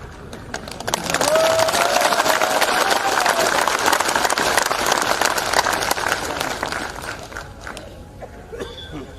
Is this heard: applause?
yes